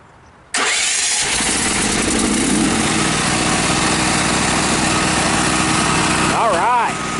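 A propane backup whole-home generator started by remote, kicking in abruptly and settling into a steady, loud, even engine drone that runs on with little change.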